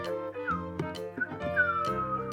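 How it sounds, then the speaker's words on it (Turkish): Someone whistles a wandering, sliding tune in short phrases, close and clear, with no talking. "sen niye ıslık çalarak geldin?"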